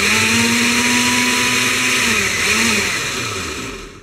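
A blender chops Oreo cookies in a loud, steady whirring burst of motor noise lasting a few seconds. The pitch wavers slightly before the motor winds down and stops.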